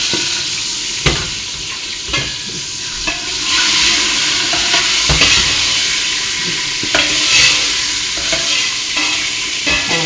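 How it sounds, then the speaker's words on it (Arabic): Red peppers crackle and sizzle in a pan of hot oil, a dense continuous hiss heard up close with scattered pops and occasional clicks from stirring, and no voices. "ان شاء الله اسمعي تكتك الفلفل."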